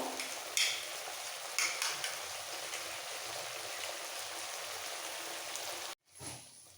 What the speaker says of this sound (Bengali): এবার দেবো পঞ্চাশ গ্রাম টক দই একটু ফেটিয়ে নেবো